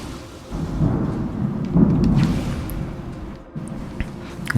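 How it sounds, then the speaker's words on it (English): Rumbling thunder in the sci-fi video game Metroid Prime 3: Corruption, a deep rolling swell that builds and lingers for several seconds at moderate loudness with no talk over it. "See, you heard the thunder, I guess."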